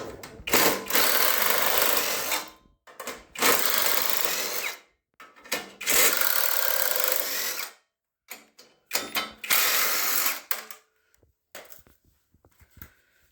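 Ratcheting 10 mm wrench working bolts off the covers of a 2013-2020 Ford Fusion / C-Max / Lincoln MKZ hybrid battery pack, heard as four loud bursts of rapid mechanical clicking separated by short pauses.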